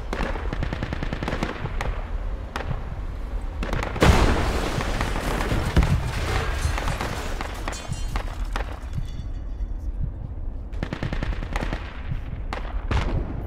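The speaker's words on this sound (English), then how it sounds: "Careful, enemy machine gunner is active" Machine gun fire in the military shooter Project Reality, with repeated rapid bursts and scattered single gunshots, some close and some distant, across a noisy battlefield and no speech.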